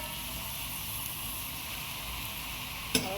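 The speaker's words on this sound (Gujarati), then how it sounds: "વઘારેલા પાલક પણ નાખી દીધી આપણે વઘારમાં" Spinach dropped into hot tempering oil gives a faint, steady sizzle and hiss that runs throughout, with one brief clink near the end.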